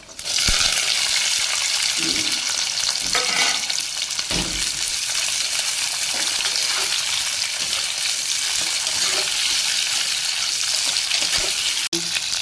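Shallots and curry leaves drop into hot oil already crackling with mustard seeds, fenugreek and urad dal for a pumpkin puli kuzhambu, giving a loud, dense sizzle that runs the whole time with occasional stirring knocks.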